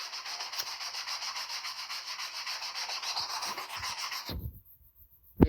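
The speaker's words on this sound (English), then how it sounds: "We have sandpaper 80, we have flat block, and we start sanding this way." Steady back-and-forth rasping of 80-grit sandpaper on a flat block rubbed across a car bumper, close and continuous, stopping abruptly near the end.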